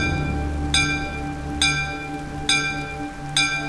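Temple bells ring four times at an even pace, each a bright metallic strike with a long ringing tail over a low hum of rain.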